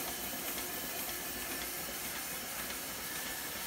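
Model Allen Mogul steam locomotive running on compressed air at about 10 psi, giving a steady loud hiss and rushing exhaust with no clear beat, heard alone and up close.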